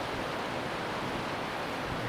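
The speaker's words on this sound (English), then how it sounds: "the waterfall was right next to me" A waterfall beside a railway trestle roars as a steady, loud, broadband rush of falling water, close by and unbroken.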